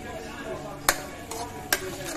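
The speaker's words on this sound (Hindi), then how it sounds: "और इसे भूनेंगे लगातार।" Shahi paneer gravy with kasuri methi roasts in a pan under continuous frying sizzle, broken by two or three sharp spoon scrapes against the metal as it is stirred.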